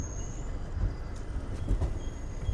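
The Seven Hills SF Express pulls into Anantapur station, its wheels and carriages giving a low, continuous rumble with occasional heavier thuds and clanks close by.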